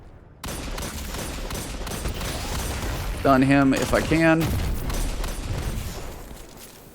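Rapid hand cannon gunfire and explosions crackle in dense bursts in Destiny 2 while someone talks over the action.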